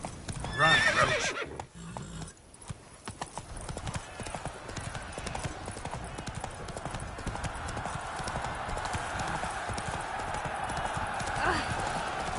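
A horse gallops in The Witcher video game, a rapid drumming of hooves with a brief whinny at the start, followed by a steady running rhythm under low game ambience.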